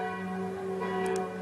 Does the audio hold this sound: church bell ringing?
yes